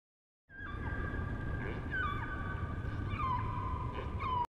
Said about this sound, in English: W is for whale.